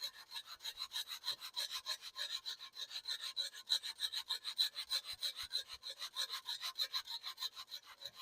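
Crackers being shaved against a kitchen grater to trim pieces for a mini gingerbread house: a steady, rapid series of dry, rasping scrapes at an even rhythm, close and fairly quiet, with no voices.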